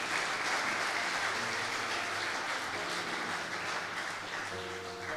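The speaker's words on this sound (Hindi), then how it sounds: "जोरदार तालियां।" A church congregation claps loudly after a sermon on life's storms, a dense, sustained wash of applause that fades slightly toward the end with no talk over it.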